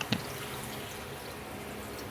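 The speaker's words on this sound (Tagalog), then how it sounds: "At atin nilagyan ito ng isang mangkok na tubig." A bowl of water is poured into a cooking pot of pakbet, a Filipino vegetable stew. A brief knock is followed by a steady, close rushing pour, with no voices.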